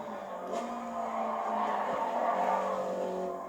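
A race car engine revs in Gran Turismo Sport during an online daily race, a close, steady engine note that rises in pitch as it accelerates, with faint tire noise and no talk.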